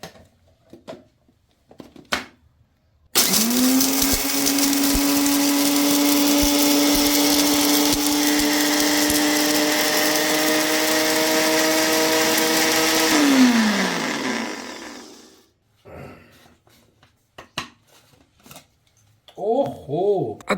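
A mixer grinder grinds roasted garam masala spices in a jar with a loud, steady motor whine for about ten seconds, then winds down in pitch, with brief clicks before and talk afterward.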